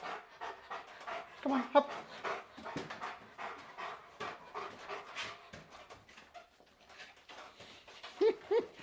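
A long-backed dog named Duke, in board-and-train, pants in quick rhythmic breaths close by, with a couple of faint whimpers, while someone speaks a short command over it.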